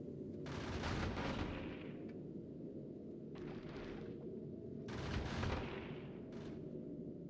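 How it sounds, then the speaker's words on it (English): Rocket turrets on a spaceship in Factorio fire at big asteroids. Several loud bursts and explosive thumps stand out over a steady low rumble, grouped near the start, in the middle and toward the end. "I want to see how many rocket shots it takes, specifically."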